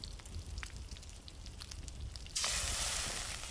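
Food cooking over a fire in the survival video game Enshrouded, a soft crackling patter that bursts into a louder, steady bright sizzle near the end, heard alone without talk.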